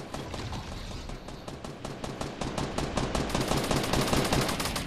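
Dense, rapid gunfire from a Fortnite match at Tilted Towers rattles on for the full five seconds, loud and close, growing slightly heavier toward the end with no talking.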